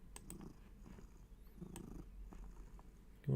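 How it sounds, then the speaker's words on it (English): A female cat purrs very close to a microphone, a soft, low rhythmic rumble pulsing with each breath, faint and steady, with a brief louder bump at the end. "You want to do your proper lad purr."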